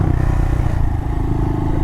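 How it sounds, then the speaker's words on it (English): A Honda Monkey mini motorcycle runs a lap on a dirt mini-moto track with jumps and a tabletop, its engine a loud, close, steady low drone with clattering and rumbling throughout. "slow little hot lap here around my mini-moto track"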